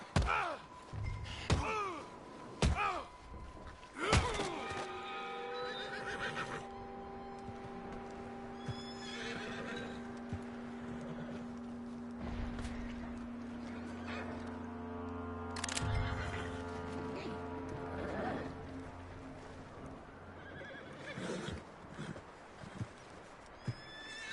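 Horse whinnies and neighs in Red Dead Redemption 2, several loud, close calls with a few sharp hoof clops, over a steady game ambience for most of the stretch.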